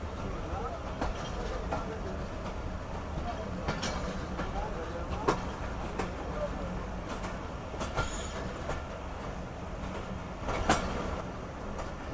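A Karakoram Express train hauled by GMU locomotive 4928 with coaches rolls along steadily, a continuous low rumble of wheels and cars with occasional clanks and faint squeals, and distant voices underneath.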